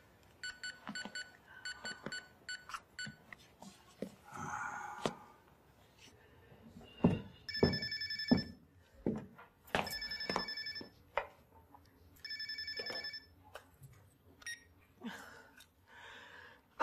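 A telephone rings in repeated electronic bursts during a call, several distinct ring cycles separated by pauses, mixed with clicks and handling noises in a quiet indoor scene.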